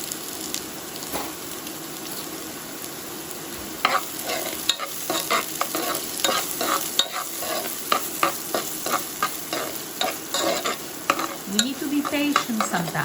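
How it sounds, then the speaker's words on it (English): A pan of onion sweats over gentle heat, giving a soft steady sizzle with repeated scraping strokes from stirring, close by and moderately loud, no talking. "We don't want to burn the onion. We want to sweat it."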